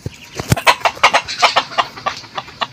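Startled chickens cluck in a rapid, uneven series of sharp calls after a dog passes through a backyard. The squawks are close and loud, fading slightly toward the end.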